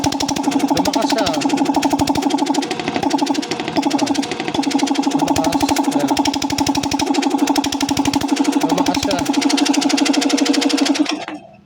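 A Vespa air compressor, just plugged in after repair, runs steadily and loudly on its own with a fast, even mechanical pulsing throughout, then cuts off at the end.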